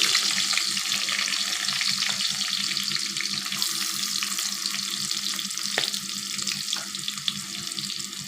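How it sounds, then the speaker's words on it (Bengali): Chopped onion fries in oil tempered with dried chilli and five-spice, a strong steady sizzle close up with stirring scrapes running through it. "ফোড়নটা যখন ফুটে উঠেছে তখন এতে আমি দিয়ে দেব পেঁয়াজ কুচি"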